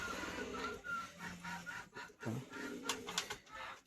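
High-flyer pigeons coo softly in low, throaty bursts amid faint fluttering and rustling, fairly quiet and somewhat distant.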